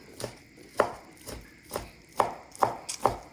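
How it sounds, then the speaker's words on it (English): A knife chops roast pork on a cutting board for Vietnamese banh mi, giving about eight sharp, close thuds in an uneven rhythm with no voices. "I'm just gonna cut the rest of the chest too"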